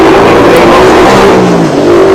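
A bus idling and pulling away at Lancaster bus station, a loud close engine drone with a steady low hum that rises slightly in pitch, no voices.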